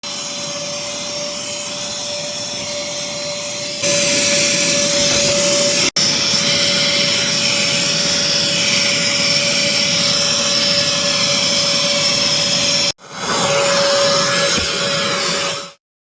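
A vacuum cleaner sucking dirt and dust out of a Dodge Grand Caravan minivan passenger seat, a loud steady whine with a constant tone that rises in pitch and cuts off briefly as the nozzle moves.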